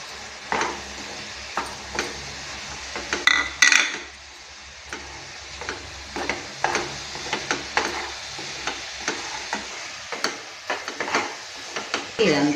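Peanut powder stirred into sticky jaggery syrup in a pan for coconut jaggery laddus: repeated scraping, spoon-knocking strokes in a steady rhythm over a faint sizzle, close and fairly loud.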